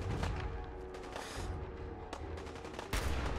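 Gunfire in the video game Fallout 4, a sustained stretch of rapid automatic fire and booming shots, loud and continuous with a sharp burst near the end.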